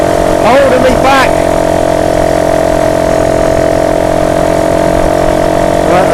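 A BSA Bantam 175 motorcycle engine drones loud and steady as the bike climbs a bridge in Lowestoft, and a voice briefly speaks over the constant engine note.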